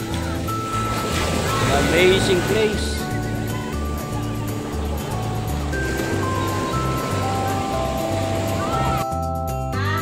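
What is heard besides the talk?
ocean waves on the beach at Baler, Aurora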